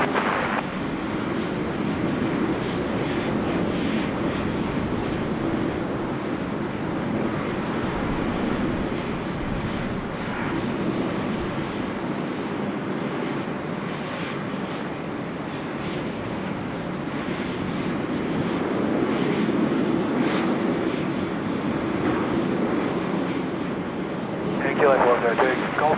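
A jet airliner lands on runway 16 right at Sydney Airport, a broad steady roar of engine and rushing air holding for the whole stretch, swelling slightly near the end, with radio voices faintly over it.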